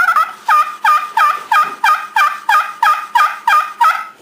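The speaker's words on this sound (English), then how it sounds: "I've got the friction that I want. That's why they call it a friction call." A friction turkey call produces a run of about ten sharp, rhythmic yelps, loud and close, with no talking.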